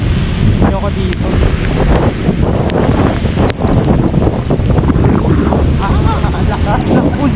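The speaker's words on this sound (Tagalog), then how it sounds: "Lakas ng ulan. Buhos na ulan natin tuloy." Heavy rain pours steadily during a typhoon, a dense loud roar with wind buffeting the microphone throughout and no break in the downpour.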